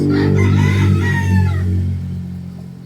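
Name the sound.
chicken clucking and crowing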